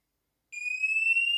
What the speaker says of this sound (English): as you can see, the alarm's going off